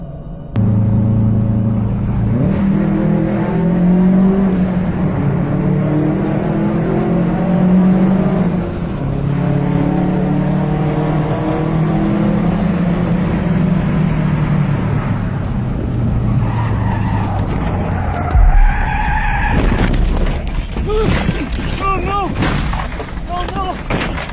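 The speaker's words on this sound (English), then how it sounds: "He was going too fast to make that sharp of a turn, resulting in a loss of control. He was left skidding towards the edge" A car loses control and skids on a sharp mountain turn, recorded from its dashcam: a loud, sustained rumbling slide with engine roar for most of the stretch, then sharper squealing tones and clatter near the end.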